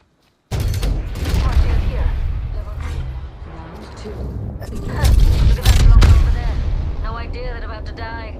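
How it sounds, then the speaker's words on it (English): Video game guns and artillery boom out in heavy, overlapping bursts, loud and close, with a sharper volley near the end, while a player's voice talks over the battle. "Firing!"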